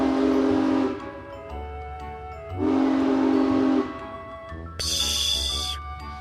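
Steam train releasing bursts of hissing steam and a whistle-like tone, three loud blasts each about a second long separated by short gaps, with a low rumble underneath throughout.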